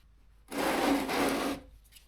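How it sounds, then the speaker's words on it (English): A rag wipes excess oil off a Ninja 400 motorcycle during an oil and filter change, heard as one close, steady rubbing swipe lasting about a second with no talk. "Wipe off the excess oil."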